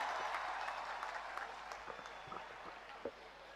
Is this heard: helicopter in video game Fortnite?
no